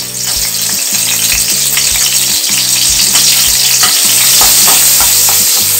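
Ridge gourd chutney ingredients roasting in a pan, stirred with steady rhythmic scraping strokes over a loud, continuous dry sizzle, close and without talk.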